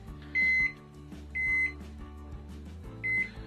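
A microwave oven timer beeps three times as its countdown ends, each beep a clear sustained electronic tone separated by short pauses, fairly quiet and close.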